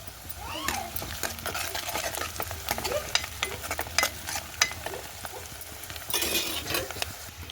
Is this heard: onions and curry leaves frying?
yes